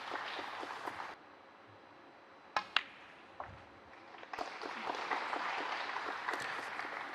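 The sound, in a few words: audience applause at a snooker match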